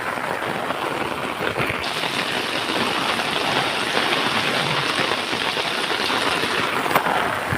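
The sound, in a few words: heavy rain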